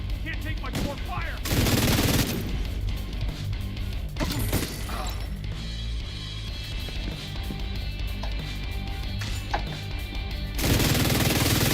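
Gunfire crackles through a video game firefight, bursts of automatic shots and sharp single cracks arriving close and loud, with heavy flurries at the start and end and scattered game voices in between.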